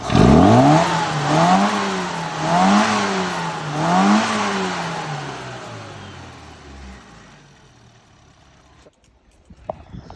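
A Mini engine, freshly tuned at the carburettor needle, revs up and down through its range in three loud, rising-and-falling sweeps, then winds down and fades to near silence.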